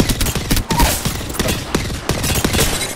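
Video-game gunfire in a ranked duo shooter match: a rapid series of sharp, loud shots in quick bursts, closely spaced and continuous throughout.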